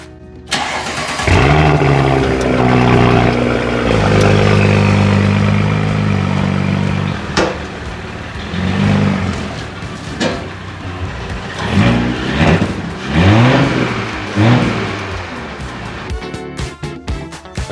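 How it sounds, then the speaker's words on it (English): An Audi car engine cold starts with a quick crank and settles into a loud, steady idle, then is revved repeatedly in short bursts that rise and fall, close by. "let's get a cold start"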